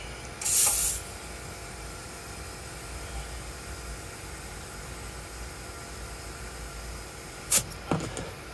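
Compressed air hisses in one short, close burst into the flat back tire of a 1985 Honda Elite 150 scooter, followed by a quiet stretch and a couple of brief clicks near the end.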